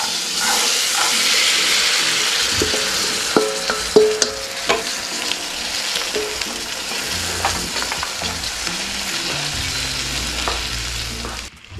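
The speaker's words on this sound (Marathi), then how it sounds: "व्यवस्थित आपण मिक्स करून घेऊयात। उकडवून घेतलेले तुरी," Boiled tur beans stirred and mixed in a pan for a Maharashtrian ghugrya dish, with scraping spoon strokes, clinks and a soft sizzle under a steady hiss, close and alone.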